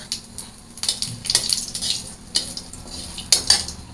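Cumin and bay leaves are stirred in a frying pan with a metal utensil, giving light scraping clinks and a soft sizzle in short bursts, close by with no voices.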